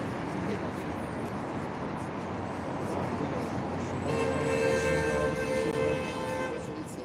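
A horn honks in one steady, sustained blast of about two seconds over a constant outdoor wash of crowd and traffic noise.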